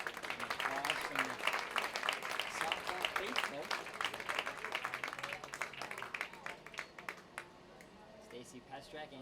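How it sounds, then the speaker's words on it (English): Softball spectators clap for a player back on her feet during a college regional game, scattered crowd applause under a commentator's voice, strongest at first and thinning toward the end. "And applause from the softball faithful"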